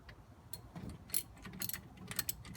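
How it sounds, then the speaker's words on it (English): A socket wrench loosening a rear brake bolt on a Challenger, rapid ratcheting clicks in quick bursts, close but quiet, with no talking. "I'm going to take my socket and my wrench, start on the bottom"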